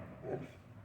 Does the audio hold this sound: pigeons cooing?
no